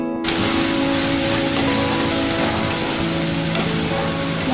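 Spice paste with ghee and ground garam masala fries in a pan with a dense, even sizzle and stirring, loud and close throughout with no talking.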